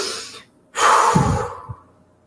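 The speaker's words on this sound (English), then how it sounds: "I want you to take big inhale and big exhale" One slow, deep breath: a brief airy intake, a short pause, then a long, full exhale that trails off. The breath is heard up close and alone.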